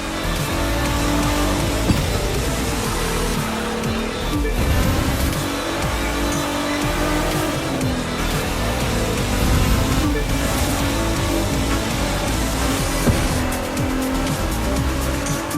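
Race cars roar and tires squeal through a snowy Grand Canyon in the racing game The Crew 2, a dense, continuous engine din with skids and revs throughout.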